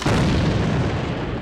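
A grenade blast in a multiplayer shooter match, a single loud, dense boom that fills the clip and rumbles on briefly without voices.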